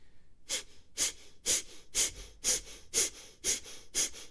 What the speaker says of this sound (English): the breath goes out the nose. And then the inhale happens quite automatically, and it's an equal inhale and exhale